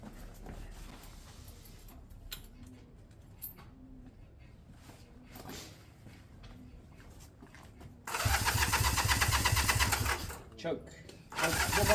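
Honda CB200 motorcycle engine, fed fuel from a container, is cranked and sputters with soft intermittent bursts under talk, then catches and runs loudly for a few seconds, briefly stops, and fires up again.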